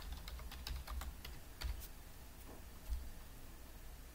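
Computer keyboard typing: quick, quiet clicking keystrokes come in short bursts with brief pauses, close and alone.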